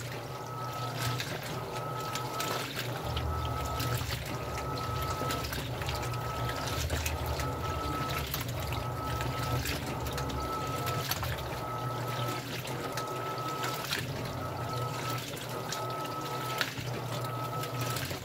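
An Electrolux LPR17 washing machine fills with water in a steady, continuous rush over a low motor hum, holding an even loudness throughout.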